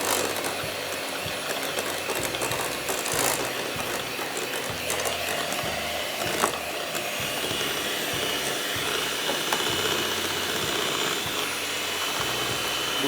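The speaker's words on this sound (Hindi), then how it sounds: "फिर उसको अच्छी तरह बीट करना है कि वो मिक्स हो जाए" An electric hand mixer beats eggs and sugar for egg biscuits, giving a steady whirring motor drone with a mechanical rattle that runs continuously at close range, with no talking.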